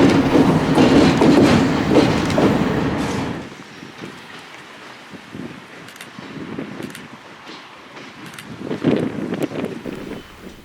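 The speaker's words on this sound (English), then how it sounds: "From Genesee Junction, the train will continue on to switch some cars bound for CSX before" Freight train hauled by ALCO diesels rolling along the rails, loud rumble and clatter for the first few seconds, then fading to a fainter, intermittent rattle of passing cars with some wind noise.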